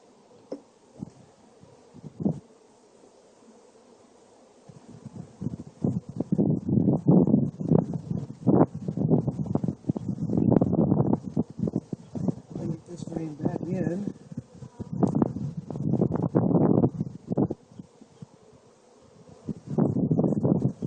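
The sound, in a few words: honey bees buzzing on brood frames from a hive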